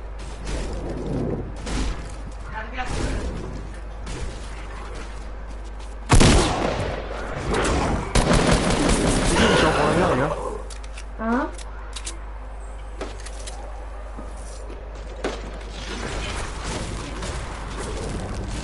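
Video game gunfire crackles in scattered bursts, with one sharp loud volley in the middle, while players keep talking over the shots.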